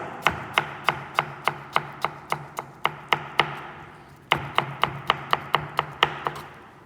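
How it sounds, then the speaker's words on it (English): A knife chopping stacked vegetable slices into julienne strips on a board, crisp evenly spaced cuts in two quick runs separated by a short pause, close and clear. "I will hold all the slices together and now I will shred them."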